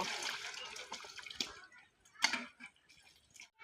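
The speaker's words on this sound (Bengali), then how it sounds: "এবার এগুলো আমি ভালো করে ধুয়ে নিব" Peeled, chopped bottle gourd being washed in water, soft quiet splashing and sloshing up close, with brief dripping and handling sounds and pauses between.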